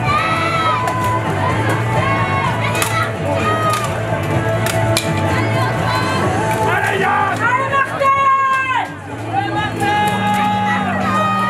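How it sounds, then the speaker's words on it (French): A crowd of children shout and cheer loudly and continuously for a team at a medieval combat tournament in Les Andelys, with a commentator speaking over the din. "on entend les enfants hurler les Martel"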